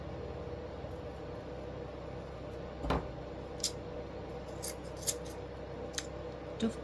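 Scissors cutting gold bow-making material, one firm snip followed by several lighter, sharp cuts spaced a second or so apart, close and quiet against a low background hiss.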